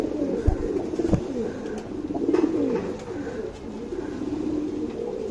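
Tournament pigeons in a Bangalore loft coo softly and repeatedly at close range, low throaty calls rising and falling over faint background noise.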